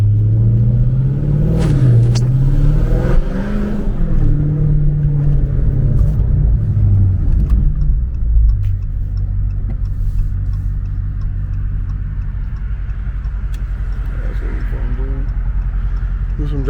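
A car with a catless exhaust drives along, with a deep, loud engine rumble and drone filling the cabin throughout and a voice over it in the first half.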